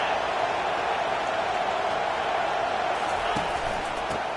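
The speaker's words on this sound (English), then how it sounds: "It is getting loud as this crowd tries to help its defense." A dense, steady roar of a stadium crowd in the College Football 25 video game swells as the home fans try to help their defense, a loud continuous wash of noise with no break.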